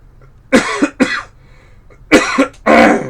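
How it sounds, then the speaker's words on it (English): Several harsh coughs close to the mic, two quick ones, a pause, then two more, the last drawn out. "I don't know why I've been coughing all fucking morning"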